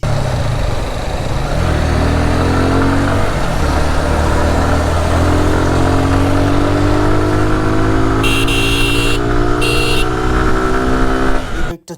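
Second-hand motorcycle on a road test ride, its engine droning loud and close with rising and falling revs over traffic, a horn tooting briefly twice near the end.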